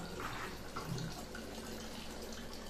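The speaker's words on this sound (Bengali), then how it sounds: "জল ভরছি।" Water from a tap fills a container in a steady low rush, faint and continuous, with a little spattering near the start and no voices.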